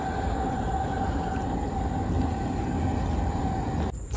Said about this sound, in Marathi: चला ट्रेन आली फटाफट चला.